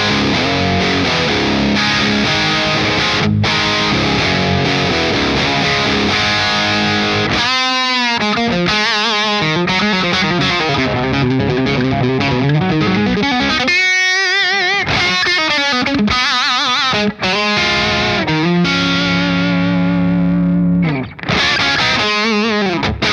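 Electric guitar through a Friedman BE-100D amp with the gain pushed, a loud, dense distorted tone playing sustained chords and riffs with ringing held notes and brief choppy stops, heard alone without talk.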